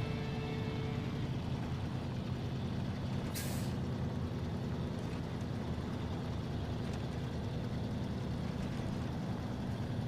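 A truck in the SnowRunner video game, driving down a mountain, sends out a continuous loud, low engine drone with a brief hiss of air brakes partway through.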